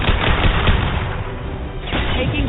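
Dense gunfire from a video game rattles in rapid bursts, loud and close, a continuous crackling volley that eases briefly before surging again.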